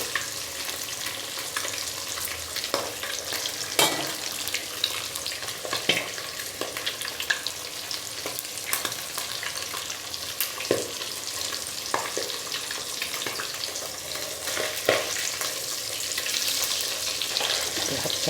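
Fish fries in a pan with a constant close sizzle and scattered sharp pops and spatters, steady throughout with no voices.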